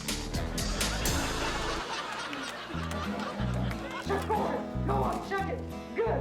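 A pet dog named Aw gives a short run of barks and yips, close and fairly loud, with a human voice and laughter mixed in around it.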